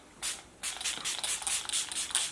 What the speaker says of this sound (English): So let's just spray it.